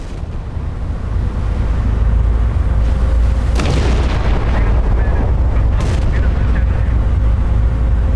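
Naval gunfire in the Battleship Command game: loud booming shots, one sharp blast and another a couple of seconds later, over a constant roaring rumble of wind and sea.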